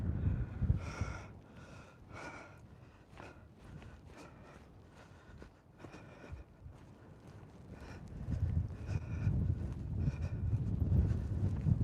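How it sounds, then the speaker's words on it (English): Gusty wind blowing outdoors on a hike in the Moffat Hills, rumbling loudly against the microphone and building stronger toward the end, with no talk. "my jacket's getting blown open with this wind"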